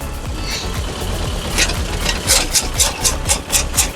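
A homemade auger-type branch shredder driven by a mini tractor runs with a steady engine drone, while rhythmic crunching bursts repeat roughly every half second as branches are chipped, loud and close with no talk.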